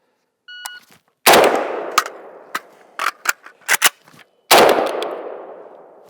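A Galil Ace rifle fires from a high ready at an outdoor range, a beep followed by about eight sharp gunshots in an uneven string, the first and last ringing out loudest.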